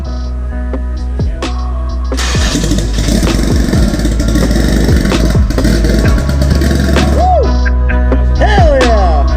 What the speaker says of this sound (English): Carbureted 350.